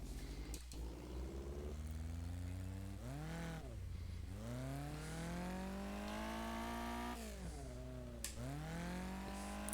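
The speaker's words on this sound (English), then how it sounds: "the midget engine sounds from the NEMA asphalt midgets" A midget race car engine from a dirt racing game mod, using sounds recorded from NEMA asphalt midgets, revs up and down in repeated sweeping pitch climbs through gear changes, faint and continuous.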